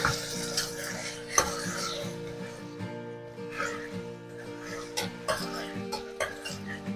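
Bottle gourd chunks being stirred in a pot for a Gujarati gourd and chana dal curry, with soft scraping and clinking of the spoon against the metal over a steady background hum.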